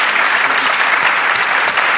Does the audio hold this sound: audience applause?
yes